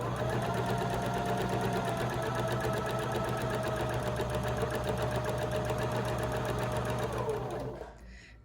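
A sewing machine stitching a straight line on mask fabric, running in a fast, steady mechanical whir close by for several seconds before slowing and stopping near the end.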